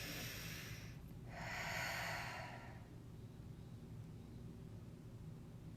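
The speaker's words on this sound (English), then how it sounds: "take a breath here." A single deep breath, drawn in sharply and then released in a long, soft exhale, close and quiet over faint background hiss, with no talk.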